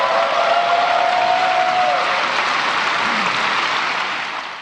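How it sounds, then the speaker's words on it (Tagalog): A large audience at President Ferdinand R. Marcos Jr.'s State of the Nation Address breaks into loud, sustained applause and cheering with a standing ovation, a dense roar of clapping that holds steady and then begins to fade at the end. "Pinakamahabang palakpak, hiyawan at standing ovation ang natanggap ni Pangulong Ferdinand R. Marcos Jr."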